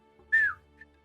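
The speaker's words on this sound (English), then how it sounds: "he whistles." A person voicing a short halfling man lets out one brief, clear whistle, a single sustained note that slides down at the end, followed by a faint trailing chirp in a quiet room.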